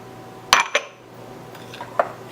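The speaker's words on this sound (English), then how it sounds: "Gonna mix it up a little bit" Baking powder, salt and sugar being mixed in a bowl for vanilla cupcakes, a couple of sharp utensil clinks against the bowl followed by softer scraping and another tap.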